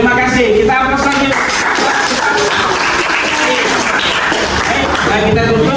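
Audience applause at a closing event for the PPG PAI program at UINSI Samarinda, a steady burst of clapping from a crowd mixed with a voice speaking over it, loud and continuous.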